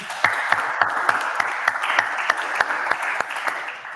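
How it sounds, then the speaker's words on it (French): A conference audience at a deep learning event in Congo applauds after a talk, a dense, steady round of clapping with distinct sharp claps throughout, close and fairly loud, with no speech over it. "On peut applaudir pour Suleiman"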